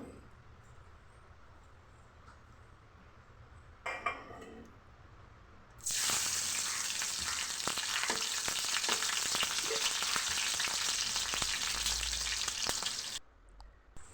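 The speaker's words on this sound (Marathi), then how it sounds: "तेल छान गरम झालं की त्यात आपण एक हिरवी मिरची कट करून टाकू" A cut green chili dropped into hot oil in a wok bursts into a loud, steady sizzle after a brief splash, crackling continuously for several seconds before cutting off abruptly.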